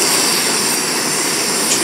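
A camp stove burner roars steadily while heating a cup of water outdoors by a remote lake, a loud, close, unbroken rushing hiss with no talk.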